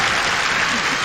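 Applause for judoka Kageura at the Judo Grand Slam Osaka 2018 fills the arena, a dense continuous wash of clapping from the crowd lasting the whole brief moment.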